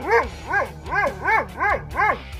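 A Doberman barks six times in a steady, evenly spaced rhythm, each bark short and tonal with a yelping edge, close and loud with no talking.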